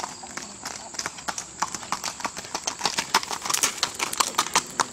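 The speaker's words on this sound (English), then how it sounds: "This is Sassie, and I mean, she can really gait. She is so smooth." A smooth-gaited Walker mare moves along with a fast, even clip-clop of hooves, close and steady throughout, while a person talks over it.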